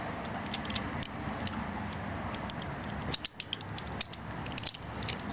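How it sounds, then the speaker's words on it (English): Small screws being driven back into a Code Red Ripcord arrow rest during a used bow rebuild, a close run of fine metallic ratcheting clicks and creaks, with sharper clicks bunched toward the end. "putting those screws back in there"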